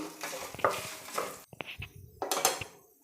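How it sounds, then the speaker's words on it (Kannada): Dry red chillies, chana dal and coriander seeds fry in oil while a spoon stirs and scrapes the pan, giving bursts of sizzle broken by sharp metallic clinks, with no voices. "ಇದಿದೆಲ್ಲ ಎಣ್ಣೆಯಲ್ಲಿ ಫ್ರೈ ಮಾಡ್ಕೊಳ್ತೀನಿ"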